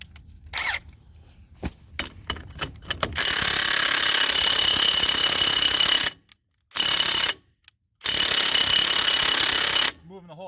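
Cordless impact wrench, a Milwaukee Fuel or Ridgid Octane, hammering at an axle: a few short taps and clicks, then long loud rattling bursts of impacting separated by brief silences.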